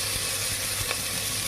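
Chopped vegetables for vegetable biryani sizzle in a pan of cooked-down masala, giving a steady, close, even hiss with no voices.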